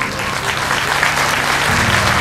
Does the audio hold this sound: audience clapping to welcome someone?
yes